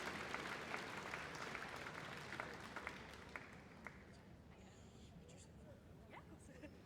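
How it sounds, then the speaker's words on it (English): An audience at a dog show claps for the golden oldies dogs, a dense, fairly loud round of applause that gradually thins and fades while voices carry over it. "let's have a round of applause, ladies and gentlemen, all of our golden oldies"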